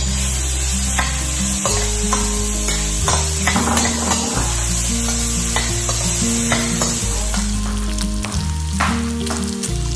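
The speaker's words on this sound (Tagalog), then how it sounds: "Now it's time to put the bacon. No oil." Bacon fries in a hot, dry pan without oil, giving a steady close crackling sizzle under a repeating low tonal hum and occasional pan clatter.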